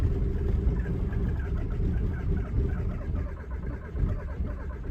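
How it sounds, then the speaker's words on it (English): A snow-covered VW TDI diesel engine cranking and running in a cold start, a steady low rumble close by with no voices over it. "Let's give her a good old cold start."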